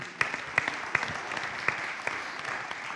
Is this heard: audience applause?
yes